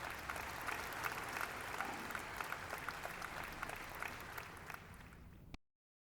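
A church congregation claps together in a dense, sustained round of applause, then the sound cuts off abruptly.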